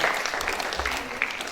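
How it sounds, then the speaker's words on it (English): An audience claps steadily at a school National Librarian Day event, a dense wash of applause filling the hall throughout. "Can we clap for them?"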